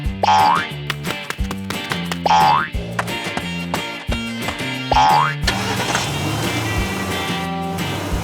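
A cartoon family car sets off with a bouncy run of springy boing effects and a putt-putt engine motif repeating three times, then settling into a steady busy hum.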